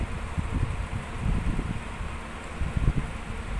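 A hair dryer blows on a pen to dry it, producing a steady, moderately quiet whirring rush of air that holds throughout with no voices.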